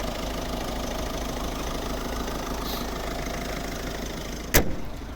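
A 1.6 HDi diesel engine in a 2009 Volvo V50 idling steadily with a low, even knocking rumble, close by, on a cold, damp day, followed by a brief sharp clatter near the end.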